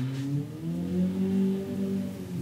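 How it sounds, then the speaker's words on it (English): A car revving and racing outside, heard as a steady mid-range engine drone rising and falling in pitch, moderately loud and continuous, with no talk over it. "somebody's racing outside"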